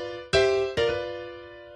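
Keyboard sounding a short blues riff in G, two chord hits in quick succession that ring out and gently fade, played alone at close range.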